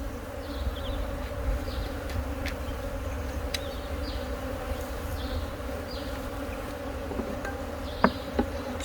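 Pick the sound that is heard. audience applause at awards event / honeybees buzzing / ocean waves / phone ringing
honeybees buzzing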